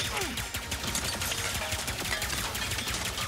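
Rapid enemy gunfire in the Ratchet & Clank: Rift Apart video game, a dense, steady stream of shots from behind that continues throughout without a break.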